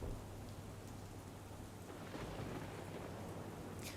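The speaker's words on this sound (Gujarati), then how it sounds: "દ્વારકાના ગુંદા ગામે ધોધમાર વરસાદ વરસ્યો" A torrential downpour in Gunda village near Dwarka, Gujarat, makes a steady, dense hiss throughout, with a faint low rumble underneath.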